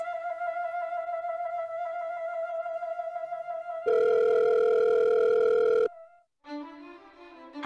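A telephone call being placed: a steady dial tone holds for several seconds, then a louder ringback or dialing tone sounds before a brief gap and another tonal burst, close and clear with no talking.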